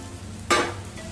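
Potato pieces hit hot oil with fried chili pieces in a pan, giving one sudden loud sizzling hiss that tapers off within half a second, with a faint background hum.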